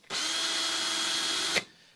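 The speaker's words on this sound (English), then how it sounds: "I'll start drilling" A power drill bores a long hole into a wooden boat, with one steady, close, high whine that runs for about a second and a half and then cuts off.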